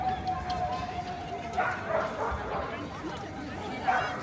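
Dogs bark and yip at an outdoor dog competition in Tallinn, with a few short bursts amid steady crowd chatter and people talking nearby.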